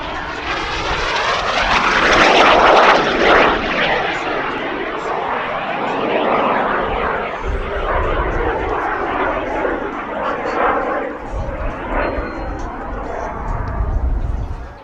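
A SubSonex Mini Jet roars past nearby at an air show, its loud engine noise swelling early and then holding steady as it continues overhead.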